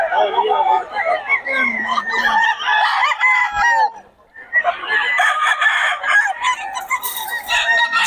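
Roosters crow loudly among clucking chickens at a busy poultry market in Bocaue, with overlapping calls close by, a brief lull, then more crowing and clucking over background chatter.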